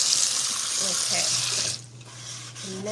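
Tap water runs steadily into a sink for rinsing cooked stir-fry noodles, a broad continuous rush that cuts off partway, leaving a low hum before a brief return of trickling.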